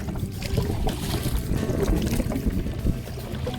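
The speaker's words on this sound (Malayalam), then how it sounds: "ഞാൻ വള്ളം തുഴയാൻ നോക്കി നടക്കുന്നില്ല കേട്ടോ സംഭവം." A wooden country boat rowed with paddles at a river crossing in Amboori, Kerala, carries a steady wash of water and wind noise with soft dips and splashes throughout, no clear speech.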